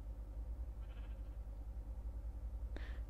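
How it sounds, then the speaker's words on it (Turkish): A single sheep in the Minecraft video game gives a short, faint bleat over a low, pulsing background hum, followed by a brief sharp click. "Aa koyun."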